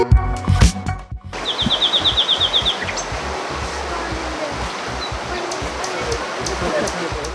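Small birds chirp in quick repeated notes over the steady rush of flowing water in Ihlara Valley, Aksaray, Turkey, with a few louder knocks and rustles at the start.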